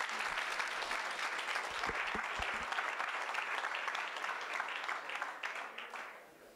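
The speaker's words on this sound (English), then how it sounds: "Please have a big round of applause for Senator Brendan Creighton" Enthusiastic applause from a crowd at a high school hall of fame induction ceremony, dense clapping that holds steady for several seconds, then fades out.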